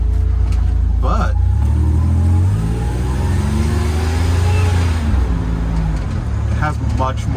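A Buick Grand National engine pulls hard from inside the car, its deep droning rumble climbing in pitch as it accelerates, with gear changes and a voice in brief moments over the loud, continuous engine.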